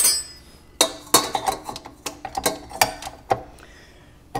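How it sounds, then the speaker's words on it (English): A KitchenAid stand mixer bowl is set onto its pins and locked into place, giving a series of sharp metallic clicks and clinks spread across a few seconds, close and distinct with no talking. "lock your bowl into place"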